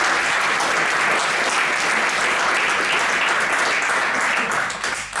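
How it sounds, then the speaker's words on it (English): Sustained, loud audience applause at a FameLab science talk event, a dense steady wash of clapping from a crowd that continues throughout and tapers slightly at the end. "Big applause for Thanu."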